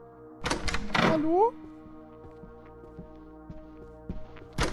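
A door swings open in the horror game Don't touch Tolyan Beer, a couple of close, loud thuds and a rising creak, then quieter ambient game sounds with another knock at the end.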